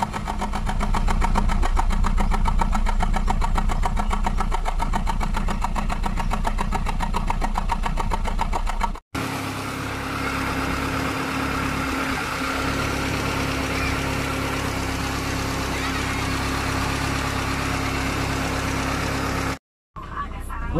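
Hyundai Inokom Atos Prima 1.1 engine idling with a steady, buzzing mechanical drone, heard up close and loud at first, then a slightly different continuous hum after a brief cut, with no talk.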